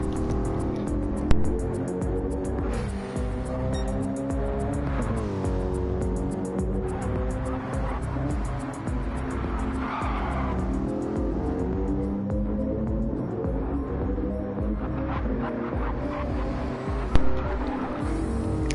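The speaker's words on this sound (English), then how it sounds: "as you hear the bellowing Mercedes AMG V8 in the enclosed tunnel there" A Mercedes AMG V8 in a racing video game bellows through an enclosed tunnel, a loud sustained engine drone with rising and falling revs and reverberant, boomy tone throughout.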